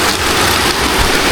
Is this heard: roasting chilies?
no